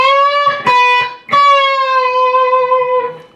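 An electric guitar plays a solo lick, clear sustained notes with string bends and a released pre-bend, separated by brief picked attacks, close and loud with no talking.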